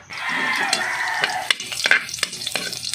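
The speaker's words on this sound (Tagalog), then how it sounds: "Ayan, mag-umpisa tayo mag-gisa" Pechay, sardines and sauté mix sizzle loudly in a pan, a steady frying hiss joined by scraping stirs and sharp utensil clacks that grow more frequent toward the end.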